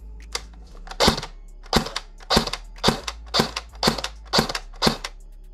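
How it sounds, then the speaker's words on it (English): An airsoft FN P90 with a stock motor fires single shots on semi-auto: eight sharp, close snaps spaced roughly half a second apart, each with a brief mechanical clack. "That's semi-auto, and there's no motor line"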